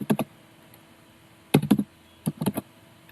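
Keys clatter on a computer keyboard as a web address is typed into a browser, in two short bursts of quick, close taps separated by a pause, with no talking.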